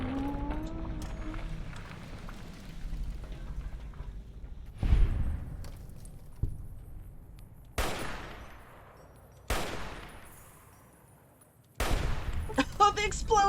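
Loud blasts and gunfire in Fallout: New Vegas, with four sharp booming impacts spaced a couple of seconds apart, each fading out, amid lighter shots and game noise.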